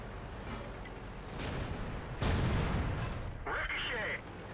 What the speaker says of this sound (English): that's a bounce from a 170mm gun